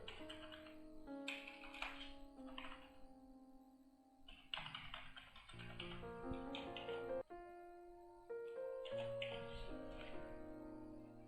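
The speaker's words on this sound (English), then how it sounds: "here I will type my password" Someone types a password on a computer keyboard, short light key taps coming in uneven bursts beneath steady sustained musical tones.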